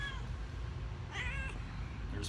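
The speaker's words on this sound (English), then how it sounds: "How you doing, Pete the cat" A cat meows indoors, two or three short calls with rising pitch standing out over a steady low background hum, fairly close and clear, with no talking.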